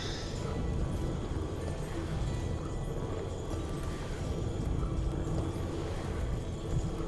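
Horses galloping in the strategy game Heroes of Might and Magic V, a steady rumble of hoofbeats with clip-clop texture running the whole time, fairly loud and continuous under a dense mix of game sound.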